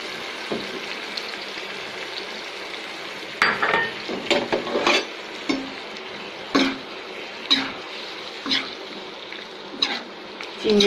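Shrimp cooking slowly for a bhuna in a pan with plenty of onion, a steady close sizzle broken by repeated scraping stirs and clinks of a utensil against the pan.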